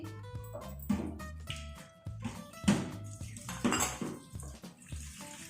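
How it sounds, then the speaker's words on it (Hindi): Chickpea chaat ingredients with chopped tomato and onion mixed in a bowl with a spoon, a series of close clinks and scraping knocks against the bowl, irregular and moderately loud, with no talking. "इन चीजों को हम अच्छे से मिक्स कर लेते हैं।"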